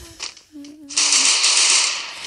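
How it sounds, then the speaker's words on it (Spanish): Gunfire in the video game Free Fire erupts as a loud, dense burst of shots that holds for over a second, following a short stretch of game sounds with a brief tone. "¿Quién dispara?"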